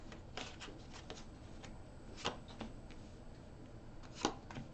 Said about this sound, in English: Need another shuffle out of that.